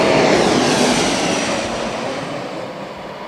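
An SAS airliner in its old livery passes at Heathrow Airport, producing a loud, broad roar of jet engines that slowly fades over a few seconds.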